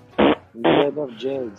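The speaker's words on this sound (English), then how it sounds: "That was a fart for you." A short, loud blat of flatulence-like noise, followed by a second burst that trails into a voice speaking briefly.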